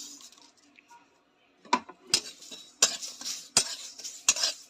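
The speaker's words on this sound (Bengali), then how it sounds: "দেখো আমি গ্যাসে কড়াই বসিয়ে দিয়েছি কয়েকটা গরম হয়ে গেছে এবার আমি সব মশলাগুলোকে একসঙ্গে দিয়ে ভেজে নেব" Mixed spices are fried in a kadai on a gas stove, heard as a run of sharp metallic clinks and scrapes from a spatula against the pan, close and irregular, with faint hissing underneath.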